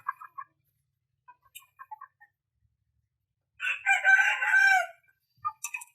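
An Aseel rooster crows once, loud and clear, in a long ragged call, surrounded by scattered short clucks and chirps from nearby chickens in a quiet pen.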